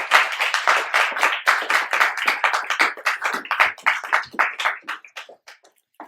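An audience claps in welcome of a lecturer at a talk on foreign intelligence and U.S. universities, a dense, steady round of applause that slowly thins and fades to a few last claps.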